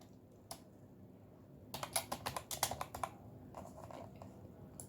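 Typing on a computer keyboard while writing Python code: a quick burst of close key clicks and taps after one isolated early keystroke, fairly quiet, with no speech.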